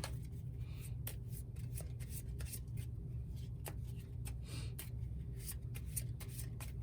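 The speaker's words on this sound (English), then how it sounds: "So I'll shuffle these 2 into the deck." Two cards are shuffled into a deck during a solo tabletop dungeon card game, soft papery riffles and light taps close to the mic, quiet and brief against faint room hum with no talking.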